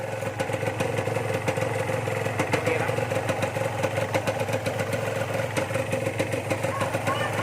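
A Honda NSR150RR two-stroke motorcycle idles steadily while warming up after an outer water pump impeller replacement, its close engine putting out a continuous busy burble with rattly clatter and no revving.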